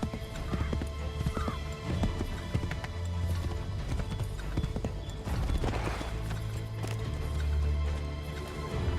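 Horse hooves clip-clop steadily in an Assassin's Creed 3 game scene, a continuous rhythmic trot under a low rumbling ambience, with a brief whinny-like sound partway through and no talk.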